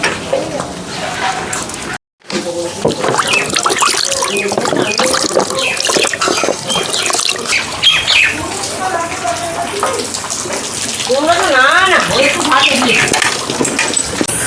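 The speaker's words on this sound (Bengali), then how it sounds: "তো চলুন আর দেরি না করে এবার মুখ টুক ধুবো এবং ফ্রেশ ট্রেশ হবো" Water runs from a tap steadily while someone washes their face at a sink, splashing and gushing throughout, with a voice talking over it.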